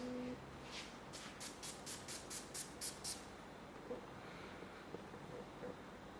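A quick run of about nine short, hissing perfume spray bursts in steady rhythm, close by, then quiet room tone.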